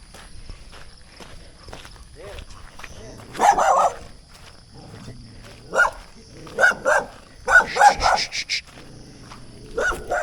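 Dogs bark in a few separate loud bursts, mixed with footsteps on a path and occasional distant background sounds.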